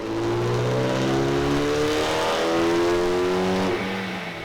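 A Mitsubishi Evo 9 MR engine running on E85 revs hard through a full pull, its rising harmonic whine climbing steadily and loud, then easing off near the end, with no talking over it.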